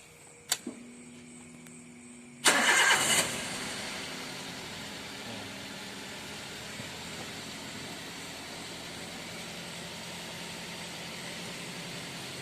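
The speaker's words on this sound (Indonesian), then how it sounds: "Selanjutnya mesin saya hidupkan" A Daihatsu fuel-injected engine cranks and catches after a couple of clicks, a brief loud burst at start-up settling into a steady, even idle that runs on alone.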